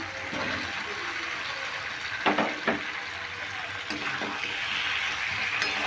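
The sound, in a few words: fried jackfruit and potato stirred into sizzling masala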